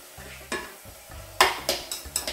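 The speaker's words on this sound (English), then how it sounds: "let's stir our veggies. Wanna keep them moving." Vegetables and mushrooms being stirred in a hot pan for chicken à la king, with several distinct scraping strokes over a low sizzle, close and moderately loud.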